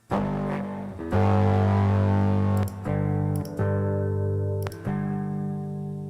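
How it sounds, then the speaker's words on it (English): Overdrive distortion on a pop beat gives thick, buzzing sustained tones that stop and restart in loud chunks, with sharp percussive hits cutting through at intervals. "So wait, overdrive."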